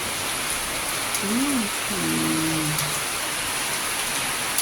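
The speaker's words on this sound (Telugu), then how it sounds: "ఏలూరులో భారీ వర్షం, పొద్దున్నే ఏలూరులో పొద్దున్నే" Heavy morning rain pours steadily in Eluru, a dense, even hiss of downpour throughout, with a brief tonal whistle or call rising over it partway through.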